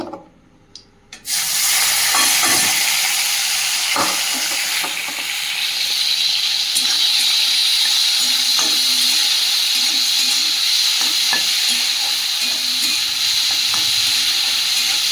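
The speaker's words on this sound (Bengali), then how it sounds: "এই তেলের মধ্যে চিংড়িগুলো ভেজে নেব" Loud, steady sizzling of prawns frying in hot oil, continuous and close, starting after a brief quiet moment, with occasional scrapes of stirring.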